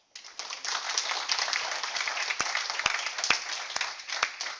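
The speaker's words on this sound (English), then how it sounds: "Let's give this man a hand." Applause from a classroom audience, dense clapping that fills the whole stretch evenly, close and fairly loud, with a few sharper individual claps standing out near the end.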